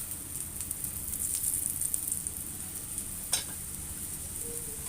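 Wheat parotta fries in oil on a pan with a soft, steady sizzle and faint crackle, quiet and close, broken once by a brief sharp clink.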